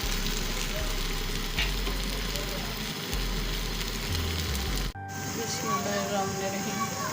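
Aloo tikki, potato patties browned golden on one side and being turned, fry in a pan with a steady close sizzle that runs throughout, with a brief dip mid-way and a voice speaking over it.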